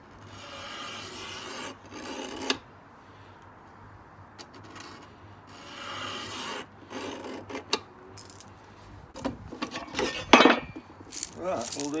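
Hand-sawing off a piece of wood for a garden table: intermittent rasping strokes in short bursts, close by, with clamp clinks and brief pauses between cuts.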